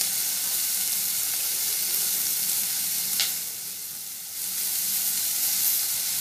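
Tomatoes and curry leaves sizzle and get stirred in a pan, a steady close frying hiss that dips briefly near the end, with a short scrape of the spoon partway through.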